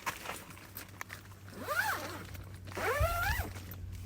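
A tent zipper on a Hyperlite Mountain Gear Ultamid 4 is pulled in two long drawn strokes, each a rising and falling rasp, close and clear with a brief pause between them.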